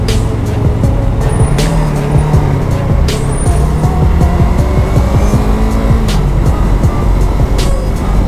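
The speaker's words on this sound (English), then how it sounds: "Medyo traffic din sa highway, oh." Highway traffic rolls past in a steady loud wash of engine and tire noise, with several cars passing close by and no talk.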